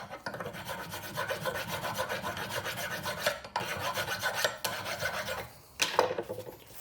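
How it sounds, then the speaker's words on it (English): Hand file rasping across a rusty brake caliper bracket from a Chevrolet Equinox, close and steady stroke after stroke, with brief breaks near the middle and end. "First I take a file,"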